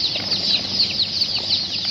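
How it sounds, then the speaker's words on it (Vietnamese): White broiler chickens clucking and chirping continuously in a crowded poultry pen, a dense, steady chorus of bird calls close by with no talk. "Con gà trắng nuôi rất to nha anh ơi."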